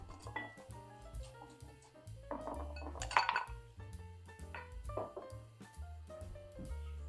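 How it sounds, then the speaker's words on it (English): Ice cubes clinking into glasses while a smoked maple Old Fashioned is prepared, several bright clinks and rattles over a low musical bed, the loudest burst midway. "I am going to go ahead and add ice to each glass."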